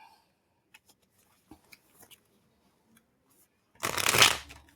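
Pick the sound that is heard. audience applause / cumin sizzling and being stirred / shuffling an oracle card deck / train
shuffling an oracle card deck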